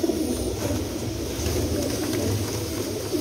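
Soft, low domestic pigeon coos murmur steadily throughout, with a faint background hum and no talking.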